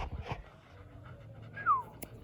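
A large Caucasian Shepherd dog pants close by in soft, uneven breaths, with a brief high whimper near the end.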